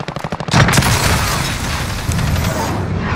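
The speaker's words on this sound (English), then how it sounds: "Cruise missile, go for launch." Cruise missile launch and blast in Call of Duty: Modern Warfare: a quick run of sharp pops leads into a loud, sustained booming roar that rumbles on and slowly fades.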